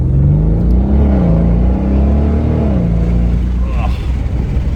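Porsche Cayenne Turbo E Hybrid coupe driving down the road, a deep engine drone rising and falling through the gears, heard loud from inside the car.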